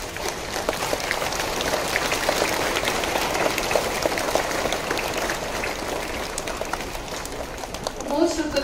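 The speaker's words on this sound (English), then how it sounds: "Let's give them a huge round of applause" Class 3A students receive applause at a school morning assembly, a dense, steady patter of many hands clapping for several seconds, loud and sustained, fading near the end.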